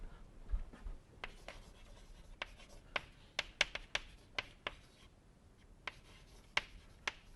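Chalk or marker scratches and taps across a board in short irregular strokes during a chemical engineering lecture, close and fairly quiet with no talking.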